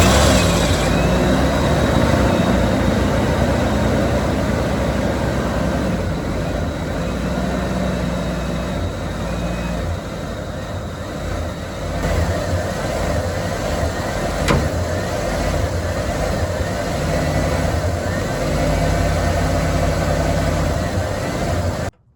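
A conversion van engine cranks and then idles steadily for over twenty seconds, a continuous mid-pitched rumble close by that cuts off at the end.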